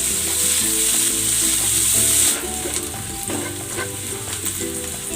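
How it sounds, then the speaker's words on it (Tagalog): Garlic and onion sauté in cooking oil in a pan with loud, close, steady sizzling and frying crackle. A stir partway through briefly changes the hiss, and no voices are heard. "Gigisa ko na tong bawang."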